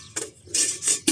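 Metal camping cookware pots and a grill rack are stacked and nested together, giving three quick clanking, scraping metallic knocks close up, with no talking.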